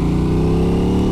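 A 2021 Aprilia RS660 sports motorcycle pulls hard in third gear from around 2000 revs, its engine a steady, loud, close droning roar held for a moment without any talk.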